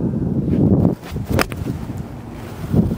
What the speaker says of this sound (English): that wind's blowing pretty good